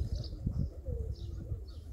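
Pigeons in a vegetable garden give soft, low cooing calls mixed with a few faint chirps over a steady outdoor background, close by and moderately quiet, with no talking.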